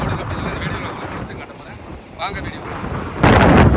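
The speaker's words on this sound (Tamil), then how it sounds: "இன்றைக்கி தான் முத முத கடுமையான காற்று வேகமான காற்று அடிக்குது" Strong wind buffets the microphone on the new Pamban railway bridge. The rough, blustery roar dips briefly, then surges into a louder gust at the end.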